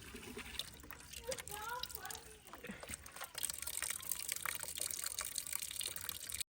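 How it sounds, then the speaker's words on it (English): Fresh market ginger is washed in a bucket of water outdoors, with light splashing and sloshing under faint background noise and occasional other sounds. "So I'm going to wash it out in the bucket here."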